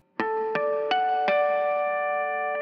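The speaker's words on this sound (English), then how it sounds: "you hear another set of harmonics" Guitar harmonics for a song: four bell-like plucks in quick succession, each chiming note left ringing and blending into a sustained, shimmering chord that fades slowly, played alone.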